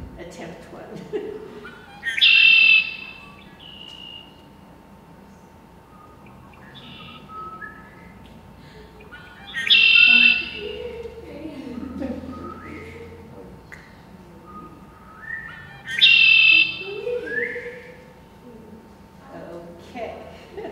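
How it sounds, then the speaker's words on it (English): Three bursts of a red-winged blackbird's bright, buzzy trilling song, repeated roughly every seven seconds, with faint background chatter and a steady hum between them. "And that is the redwing."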